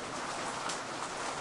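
Steady rain falls over a small video game town, a constant even patter filling the short stretch with no voices.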